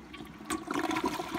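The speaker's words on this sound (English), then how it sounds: "there's another flush" A Mansfield Alto toilet flushes, a close, short rush of swirling water that surges and gurgles through the bowl.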